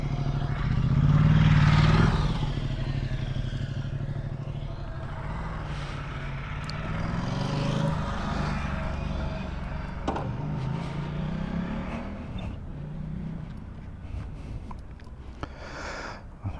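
Honda NC750X motorcycle on a test ride, engine running steadily with road and wind rush throughout, a louder surge near the start, then a constant mid-level drone without talk.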